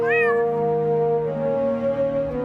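A single cat meows loud and close, a drawn-out rising-then-falling cry lasting a couple of seconds with no other sound.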